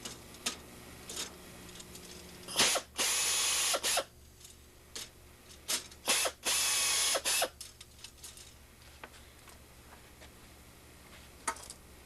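Rivet holes are countersunk in the wing of an RV-6 kit aircraft with a drill-driven countersink, sounding as short repeated whirring bursts of about a second each, separated by clicks and handling noise in a quiet workshop.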